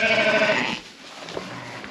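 Sheep and lambs bleat on a farm during lambing. One loud, near bleat wavers for under a second and then fades into quieter pen noise.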